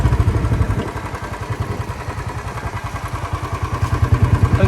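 A motorcycle rides through the streets of Kakarvitta, its engine chugging in a steady rapid pulse that swells and eases, close and fairly loud with no talk.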